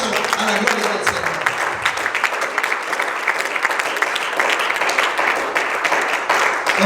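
A church congregation claps loudly together in praise, a close, vigorous burst of many hands beating in an uneven, lively patter that stays strong from start to finish.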